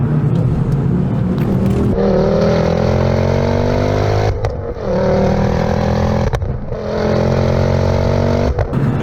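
A Ford Focus RS engine revs hard toward the rev limiter in repeated climbing pulls, loud and close from inside the car, with brief dips between gear changes.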